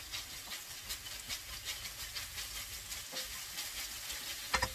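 Garlic added to chicken in a hot frying pan sizzles and hisses steadily at close range, with a few small crackles and pops and no talking.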